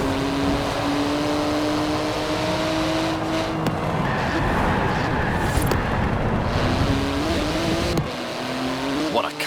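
A carbon-fibre car with a 700-horsepower 3.8-litre twin-turbo flat-six drives in Forza Horizon 4, its engine droning and rising in pitch as it revs, with brief tyre noise and voices talking over it.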